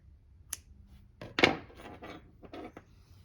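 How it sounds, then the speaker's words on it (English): Scissors snip through crochet yarn nearby: a faint click, then a louder metallic cut followed by a few lighter snips and rustles, with no talk. "I'm going to cut this yarn."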